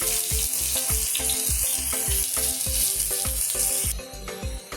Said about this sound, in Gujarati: હવે આ ડુંગળી વઘારમાં આપણે ઉમેરીશું.